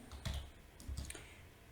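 Someone types a Python command on a computer keyboard, giving a few close, distinct key clicks in an uneven rhythm, with no talking.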